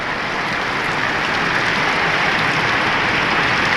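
Heavy rain pouring down during a trip between Romblon and Masbate, a dense, continuous broadband hiss that stays loud and even from start to finish, with no voices.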